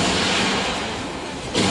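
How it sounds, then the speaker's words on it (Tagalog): A dense, roaring synthesized blast of noise, explosion-like, rumbling loudly for under two seconds with a brief surge at the end. "Parang pagsabog ha!"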